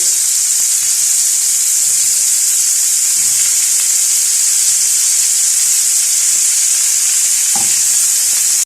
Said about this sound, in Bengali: ফুলকপিগুলো আমি তেলের মধ্যে এরকম হালকা লালচে করে করে একটু ভেজে নিচ্ছি।